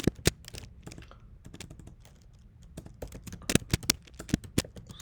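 Rapid clicking of computer keyboard keys while Java code is typed, irregular bursts of close, crisp taps with brief pauses, no talk.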